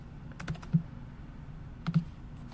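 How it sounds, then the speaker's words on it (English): Quiet typing on a computer keyboard while coding: a few soft, close key clicks in two small clusters separated by a pause, with a low background hum. "I'm just typing stuff here."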